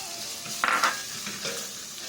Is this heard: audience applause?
no